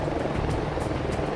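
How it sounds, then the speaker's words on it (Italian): Steady, loud rotor thump and turbine roar of an AB-412 fire brigade rescue helicopter, close by and continuous, with no voices. "Per il soccorso in ambiente impervio e per l'ospedalizzazione viene impiegato ora un elicottero."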